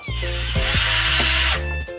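A power drill bores a hole through a plastic bucket lid to fit an airlock, its motor whining loud and close as it revs up, holds a steady grinding pitch for over a second, then drops and spins down with short stuttering pulses.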